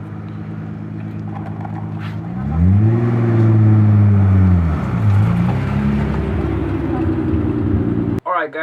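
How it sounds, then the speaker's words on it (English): Nissan 300ZX passing by with a loud rising and falling exhaust note, engine revving up close then fading, with a brief sharp pop near the end. "You can hear that exhaust pop."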